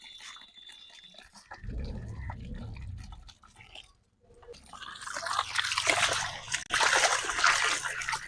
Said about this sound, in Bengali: এই যে এখন ঢেলে দিলাম জিঙ্ক।